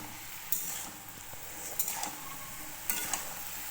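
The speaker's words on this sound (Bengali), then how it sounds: "এগুলোকে ভালোভাবে খুন্তিয়ে নেড়ে এবার আমি ঢাকা দিয়ে দেব।" A spatula stirs brinjal, potato and bottle gourd in a pan for a vegetarian curry, soft scraping strokes over a steady low sizzle with a few sharper scrapes spaced through the stretch.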